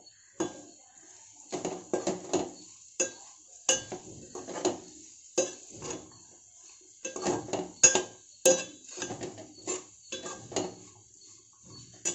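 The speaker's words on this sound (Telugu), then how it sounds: "రుచికి సరిపడా ఉప్పు కారం వేసుకొని బాగా కలుపుకోవాలి" A spoon clinks and scrapes against a pan in irregular bursts as salt and chili are stirred into a coconut cashew curry, quiet and close against a silent background.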